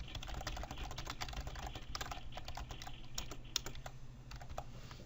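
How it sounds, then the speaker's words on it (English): Rapid, irregular clicking of fingers typing on a computer keyboard, close and fairly quiet, with no speech. "Alright, now we can start typing."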